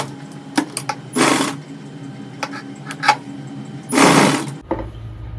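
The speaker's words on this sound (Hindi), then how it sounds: "अब हम इसे बिना खींचे स्टिच करेंगे।" A sewing machine stitches a boat neck suit in two short, close rattling bursts separated by quiet pauses and faint clicks.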